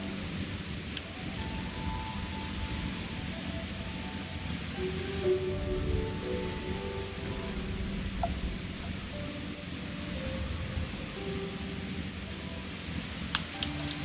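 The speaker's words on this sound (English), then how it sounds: "It's pissing rain all over the place." Steady rain pours down in a video game world, a dense close hiss of drops on surfaces with faint low rumbles, continuous throughout with no talking.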